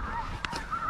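Snow geese honk briefly during a spring hunt in Alberta, a short call heard against steady outdoor background noise.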